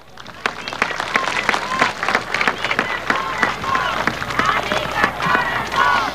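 Strong applause from an audience at an official government event welcoming the president and minister, clapping rising quickly and holding steady throughout, with scattered voices and cheers mingled within.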